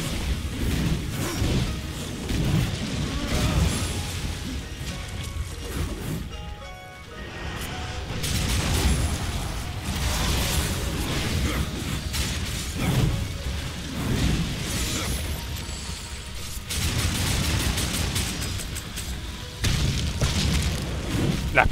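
Explosions in the action video game Darksiders II: repeated heavy booms and crashing bursts, loud and close, rolling on and off for over twenty seconds amid clattering debris and game effects, with no voices.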